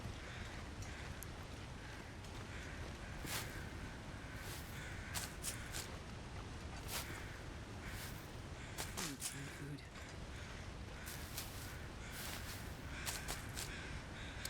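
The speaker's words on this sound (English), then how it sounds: "All kinds of crows." Crows cawing in the snowy wilderness of the survival game The Long Dark, several short harsh calls scattered over a steady windy background, fairly distant and faint, with someone talking at times.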